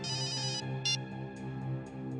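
A mobile phone ringtone plays a repeating electronic melody, fairly quiet and steady, with no voices over it.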